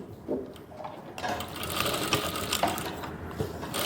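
A sewing machine runs steadily, stitching the edge of a piped flower-style neckline on a garment. It starts after a brief quiet moment and continues as a loud, close, even mechanical whir.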